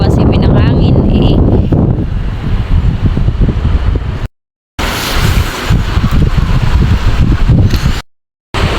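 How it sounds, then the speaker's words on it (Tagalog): Strong, cold morning wind buffets the microphone in a steady roar, cutting out briefly twice, with a muffled voice under it early on. "Malamig po ang simoy ng hangin eh."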